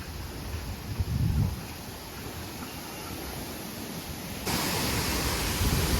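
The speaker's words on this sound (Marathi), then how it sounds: "तुम्ही बघू शकता इथे किती पाणी वाया चाललंय भाई" Water flowing and being wasted from a drain, a steady broadband rushing wash that grows slightly louder near the end, with no talk.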